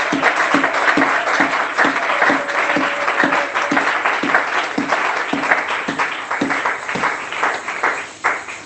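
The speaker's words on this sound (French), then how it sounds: "Acclame réellement pour le roi." A church congregation applauds, the dense clapping falling into a steady rhythmic beat, loud and close, with faint voices mixed in.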